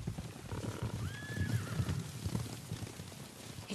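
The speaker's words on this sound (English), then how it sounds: "Horses, they're coming for us." Horses approach in the video game Ghost of Tsushima, hooves clip-clopping in a steady patter with a clear whinny midway, set against a dense outdoor game ambience.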